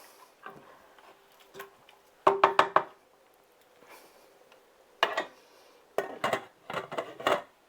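Spoon knocking and scraping in a pot as soaked rice is stirred in, scattered clinks and short clusters of metallic taps with quiet pauses between them.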